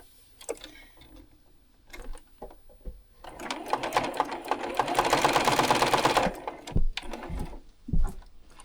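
Sewing machine joining quilt block pieces: scattered clicks and fabric handling lead into a few seconds of rapid, rattling stitching up close, followed by more knocks and handling noises.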